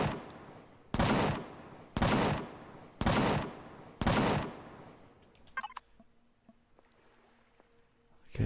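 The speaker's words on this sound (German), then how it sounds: "Kanonengeschütz" A cannon turret in the Empyrion Galactic Survival game fires four loud, heavy shots spaced about one second apart, followed by quieter scattered clicks and a faint steady tone.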